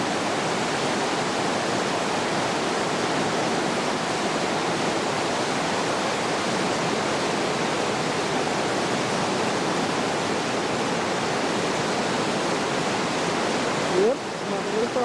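Steady roar of whitewater from a river rapid in Nepal, broad and continuous, loud and close, with no breaks, while kayakers and rafters run it.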